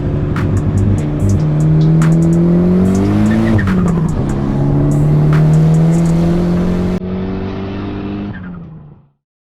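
A Proton Putra coupe engine runs and revs in a garage, a loud steady drone with one rising and falling rev before cutting off near the end, no talking.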